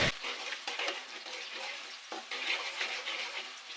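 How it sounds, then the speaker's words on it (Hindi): Chopped onion frying in ghee for matar pulao, a steady close crackling sizzle with occasional stirring scrapes and brief louder bursts, running continuously without speech. "अब प्याज को मैं थोड़ा सा फ्राई करूँगी,"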